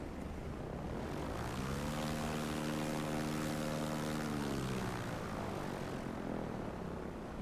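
Radial propeller engine of a T-6 Texan trainer in Microsoft Flight Simulator 2024, a steady loud droning hum with a gently shifting pitch, running alone throughout.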